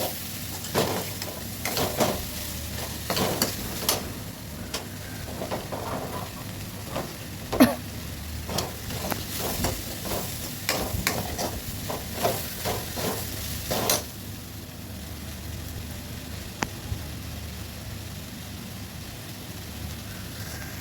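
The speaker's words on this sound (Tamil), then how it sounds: "சேர்த்துட்டு நல்லா அதை வதக்கி விடணும்." Coarsely ground coconut being sautéed for cluster bean kootu sizzles in a pan as a utensil stirs and scrapes in quick bursts, busier early on and then settling into a quieter sizzle, with a throat clear near the middle.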